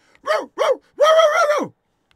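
A person imitates a dog's bark with the voice: two short yelps followed by a longer drawn-out howling bark, close and fairly loud, with no other talk.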